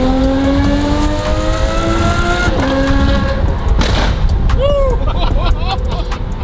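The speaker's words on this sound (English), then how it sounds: "This car sounds so good. I can't believe that you can just bolt an exhaust onto this car and it sounds like that." Ferrari F12 twin turbo fitted with a bolt-on aftermarket exhaust, accelerating hard up through the gears on a freeway, loud and close, with rising engine tones and shift drops under steady road and wind roar.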